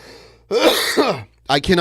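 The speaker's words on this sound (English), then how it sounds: "stop coughing now" A person coughing near the microphone, two short harsh bursts, the first longer and followed after a brief pause by a second quick one.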